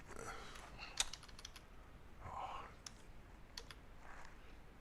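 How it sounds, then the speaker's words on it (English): Quick irregular clicks of typing on a computer keyboard, faint and close, with a few sharper key taps scattered across a quiet room. "sometimes I'm just bad at typing"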